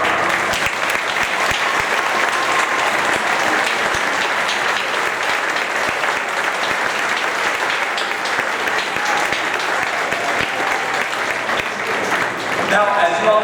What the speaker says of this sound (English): give a big round of applause to our referees led by head referee Mark McCain